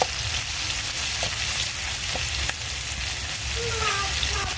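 Onions for fish bhuna frying in hot oil in a pan, a continuous loud hiss and crackle with occasional stirring taps, close up with no one talking.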